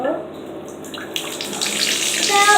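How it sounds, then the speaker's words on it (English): Tap water runs steadily into a bathtub to bathe a dog, a broad rushing stream that starts moderate and grows fuller and louder toward the end, heard close with no talking. "So we're gonna turn the water on just right in the middle."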